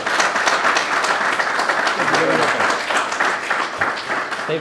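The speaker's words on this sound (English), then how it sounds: "And if you could please also give a round of applause to Jan." Steady applause from an audience fills the whole stretch, a dense wash of clapping with some voices mixed in underneath.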